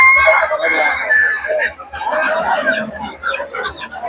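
Native chickens and roosters at the crowded Golakandail village poultry market in Bangladesh cluck and crow loudly and continuously, with someone talking among them.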